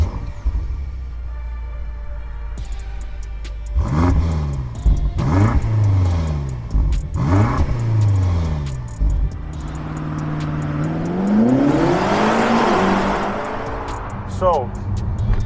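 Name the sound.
2020 BMW M5 Competition engine while driving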